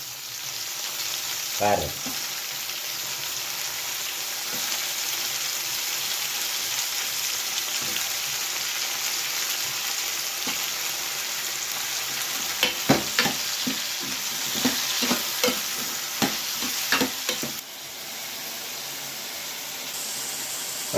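Mushrooms sizzle steadily in a hot pan for a Tamil mushroom curry, with bursts of clattering stirring strokes later on and a brief spoken word early.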